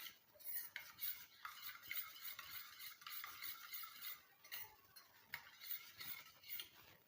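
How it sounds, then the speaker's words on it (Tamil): A spoon stirs a homemade castor oil hair dye mixture in a small metal vessel, rhythmic faint scraping and clinking strokes repeating close by, quiet and without speech. "நல்லா அதை மிக்ஸ் பண்ணி விடுங்க"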